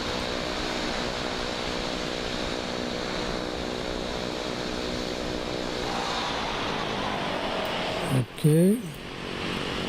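Cessna Caravan turboprop heard during a landing replay in Microsoft Flight Simulator 2024: a steady engine drone, then near the end a brief rising whine and a short word from a voice.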